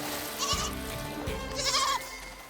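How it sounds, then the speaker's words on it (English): Cartoon goats on a beach bleat twice in wavering, nasal cries over a busy, dense animated soundtrack. "Pups, the goats are on the beach."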